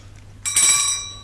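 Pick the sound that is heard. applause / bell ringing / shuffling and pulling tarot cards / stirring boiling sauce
bell ringing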